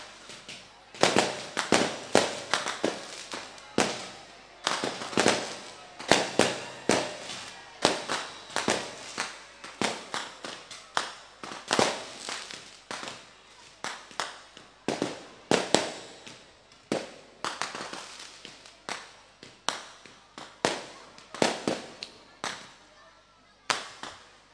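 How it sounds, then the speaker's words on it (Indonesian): Firecrackers go off in a long, irregular string of sharp bangs and crackling pops. The bursts are loud and come in clusters at mid distance, with voices faint in the background. "Baru ngenteni mercon."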